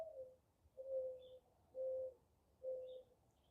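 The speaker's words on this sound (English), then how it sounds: "It's a beautiful owl howling in the back." Owl calling outdoors in the background, four soft, drawn-out hooting notes spaced about a second apart over faint low ambient noise, with a couple of faint higher chirps between them.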